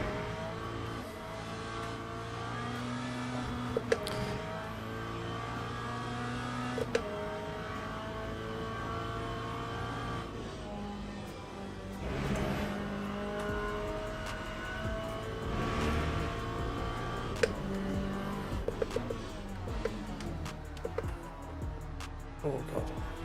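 A race car engine in the Le Mans Ultimate racing game buzzes steadily throughout, with rising and falling revs, gear changes and occasional clicks, while a person talks over it.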